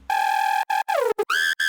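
A bright, buzzy Serum 2 synth lead for a funky drop plays a short choppy phrase of held notes with quick gaps and gliding pitch bends, loud and alone.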